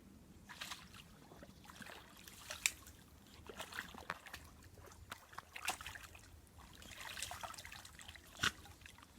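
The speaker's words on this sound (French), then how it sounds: "Et bien évidemment, chez Malo, que serait une balade sans aller patauger dans l'eau?" A dog wading through water on a countryside walk, with soft, intermittent splashes and trickling sloshes close by against a quiet outdoor background.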